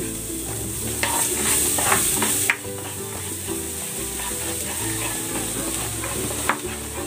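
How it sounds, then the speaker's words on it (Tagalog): Garlic sautéing in a hot pan, a bright, steady close sizzle with a few clinks and scrapes of a spatula stirring, no talk. "Magigisa na ako ng bawang."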